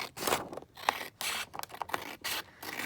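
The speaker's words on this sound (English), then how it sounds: "Okay, let's just cut it down" Scissors cut through paper for making envelope pouches: a few quick close snips and scraping slices in short bursts with brief pauses between, no voices.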